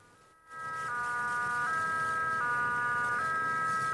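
A two-tone emergency siren from a fire engine arriving at a burning car wails loud and steady, switching pitch at regular intervals after a brief quiet start, over a rumble of street traffic.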